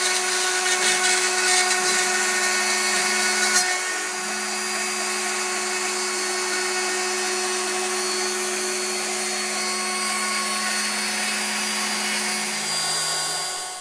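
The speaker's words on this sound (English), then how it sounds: "I used a 1/8 inch diameter end mill to rough cut a 12 inch radius along its length." An X-Carve CNC machine runs a 1/8 inch end mill rough cutting a 12 inch radius along a guitar fretboard, giving a steady high whine with tonal hums that carries on unbroken from start to finish.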